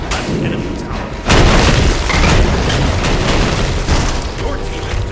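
A loud booming blast from an enemy tower being destroyed in the video game Smite hits sharply, then leaves a dense rumbling wash of game effects and battle noise, with a voice talking over it.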